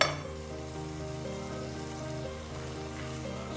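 Ginger garlic paste with turmeric frying in a pan for Pallipalayam chicken, a soft continuous sizzle under a steady background hum, with no talking.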